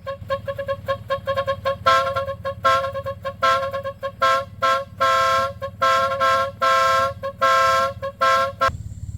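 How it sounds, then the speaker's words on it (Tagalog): A loud aftermarket pop-up car horn on a Mitsubishi Mirage G4 honks in a rapid series of short blasts, then longer repeated toots in a steady rhythm, close by with an engine idling underneath. "Pinakabitan ko nga din pala yan ng pop-up horn na konektado sa paglight."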